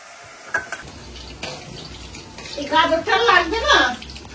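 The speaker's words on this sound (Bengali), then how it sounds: "এখন পকোড়া ভাজা চলছে।" Pakoras deep-frying in a home kitchen for chilli chicken, a soft sizzling bubble with stirring and splashing that swells louder toward the end, while people talk nearby.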